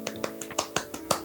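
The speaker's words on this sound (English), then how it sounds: "Golf clap." Several soft, quick claps, about seven light pats spaced evenly and close by, a quiet mock golf clap with no talking.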